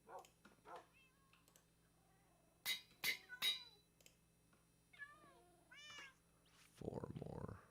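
Cats meow several times in the video game Minecraft, short rising and falling calls at moderate distance over a quiet background, with a brief burst of other noise at the end.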